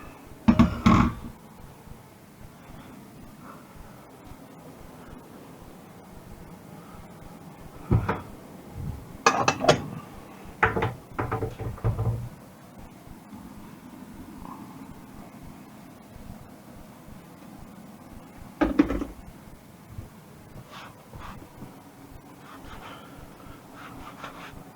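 A home kitchen cupboard is opened and closed while a colander is fetched during pasta cooking. It makes a few sharp wooden knocks and clatters, with a cluster in the middle and another later, over a quiet room background.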